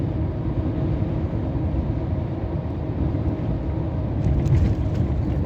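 Scania R500 truck rolling over rutted asphalt, a steady low rumble and road roar throughout with a slight jolt near the end, heard from inside the cab with no talk.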